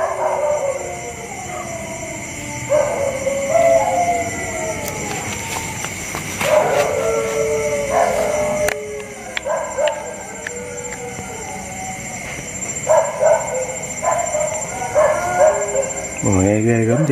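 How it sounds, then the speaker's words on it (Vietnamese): Several dogs barking and howling at night near a bamboo grove, yips and bays recurring throughout over a steady hum, with people talking over them. "Tiếng chó tù bên đó."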